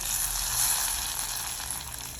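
Hot oil sizzles loudly and steadily in a pan as meat and spice tempering fry, a dense continuous crackle with no voices.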